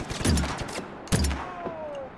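Gunfire in the action game Just Cause 3: two loud bursts of rapid shots about a second apart, each with a heavy low boom, followed by a thin whistling streak.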